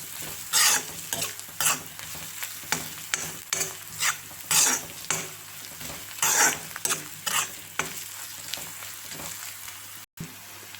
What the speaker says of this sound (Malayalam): അത് നന്നായിട്ടൊന്ന് വഴറ്റുക. നന്നായിട്ട് വഴന്ന് വരട്ടെ.